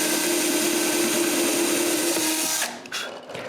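A power drill bores screw holes into solid walnut for a clock box: a steady, close whirring drone for about two and a half seconds, then it winds down and stops.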